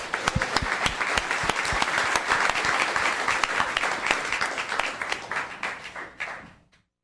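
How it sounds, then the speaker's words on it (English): Audience at a town council meeting breaks into sustained applause, many hands clapping close and loud for several seconds before thinning out and stopping abruptly. "Let's give her another round of applause."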